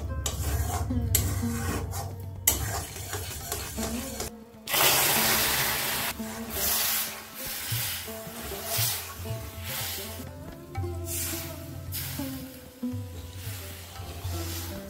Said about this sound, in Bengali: কালার অনেকটা চেঞ্জ হয়ে গেছে, এবার আমি এতে জল দিয়ে দেবো।